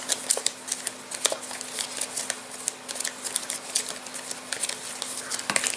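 Cards for the Castle Ravenloft board game are shuffled in quick, repeated riffling bursts, close and crisp, with a faint steady hum beneath.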